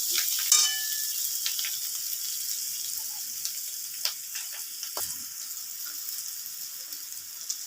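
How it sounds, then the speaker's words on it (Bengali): Spring onion stalks fry in a pan with a continuous soft sizzle, punctuated by occasional light stirring clicks and taps close by. "পেঁয়াজ কলিটা ভাজা হয়ে গেছে"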